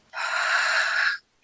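A single long, steady breath pushed out during a slow breathing exercise, airy and close, lasting about a second with no talking over it.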